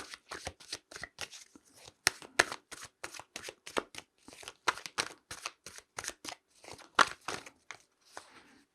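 Tarot cards shuffle close up in a rapid run of crisp riffling flicks and slaps, repeating evenly for several seconds with no talk.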